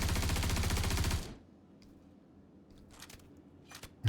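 An SMG fires a rapid, loud burst in the Star Citizen video game, about a second of fast repeated shots, then quiet room tone with faint clicks and a few scattered distant reports.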